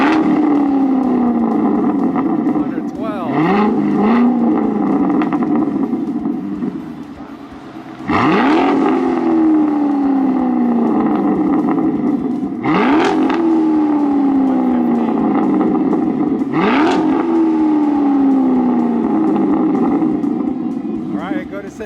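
Corvette C7 with a Borla or AWE aftermarket exhaust revving in a shop: four loud, close blips that sweep up and fall away, a deep idle rumble between them, with people talking over it.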